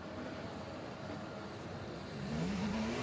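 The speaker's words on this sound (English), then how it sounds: "if you listen to the engine note as he launches" A 2015 Formula 1 car engine at the Austrian Grand Prix race start launch, heard faintly through a steady roar of crowd and track noise, rises in pitch near the end as revs build.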